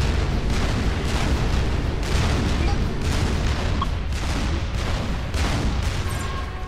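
Cannon blasts and explosions from the real-time strategy game Supreme Commander 2 come as a rapid, repeating series of heavy booms and bursts over a dense rumbling battle din, with talk faintly underneath.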